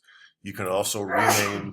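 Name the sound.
sneeze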